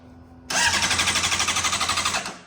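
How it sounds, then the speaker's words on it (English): Engine of a wrecked Honda CBR600RR motorcycle cranks steadily without firing: a rapid, even starter-motor chug that runs about two seconds, close and loud, then cuts off. "So the motor turns over, but no start."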